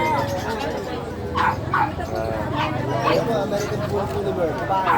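Several dogs bark and yip repeatedly at close range, overlapping with a person talking and background chatter.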